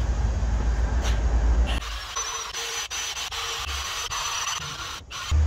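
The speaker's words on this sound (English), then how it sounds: "Pretty much a very tiny flapper wheel." A very small flap wheel grinds rust from inside a Toyota HZJ75 front axle housing, a close, raspy scraping that follows a louder stretch of low rumble and comes in uneven passes with brief breaks.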